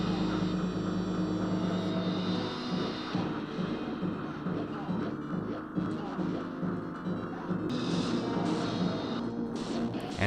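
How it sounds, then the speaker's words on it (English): A biplane droning over a turbulent ocean in the arcade game Edward Randy: a steady loud propeller hum and throb layered with game music and effects, continuous throughout. "this time on the wings of a biplane over a very turbulent ocean"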